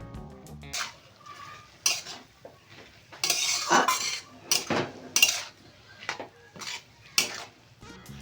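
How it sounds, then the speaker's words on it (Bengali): Taro greens with fish head being stirred in a pan, a spoon clinking and scraping against the metal in irregular bursts, close and fairly loud, with faint sizzling beneath. "দিয়ে ভালো করে নেড়ে দিতে হবে যাতে লবণ, হলুদ, পেঁয়াজ এবং শাক একসঙ্গে ভালোভাবে সেদ্ধ হয়।"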